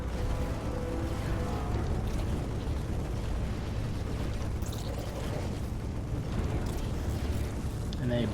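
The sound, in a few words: StarCraft 2 video game Marines attacking Sentry and Immortal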